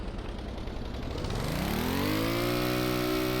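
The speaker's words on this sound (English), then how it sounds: "This thing's engine sounds so good." Drag racing car engine in Stormworks: Build and Rescue revving hard, pitch sweeping up over the first seconds, then holding a loud, steady high-rev drone with no clutch engaged, close and alone with no talking.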